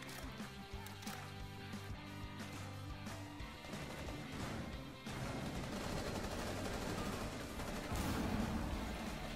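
Shotgun fire and chaotic weapon bursts in the Rainbow 6 Siege video game, dense overlapping shots and crashes that keep going without a break and grow louder near the end.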